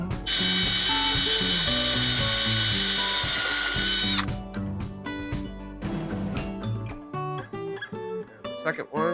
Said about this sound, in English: too deep with your drill when you're creating the mounting holes, you'll be just fine